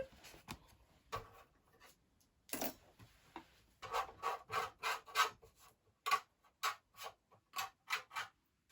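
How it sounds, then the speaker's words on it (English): Paper bits being scraped out of a craft cutting die, heard as a run of short, close rasping strokes that come in quick uneven bursts, some faint and some sharper, with no speech. "Excuse my scraping, that's just me cleaning the bits of the previous die cut."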